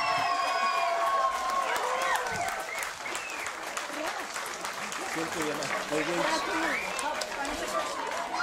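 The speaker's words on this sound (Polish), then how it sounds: "ja poproszę o gorące brawa dla naszych zwycięzców" An audience at a brass orchestra festival applauds the winning youth fire-brigade band, a continuous patter of clapping throughout, with voices and chatter mixed in.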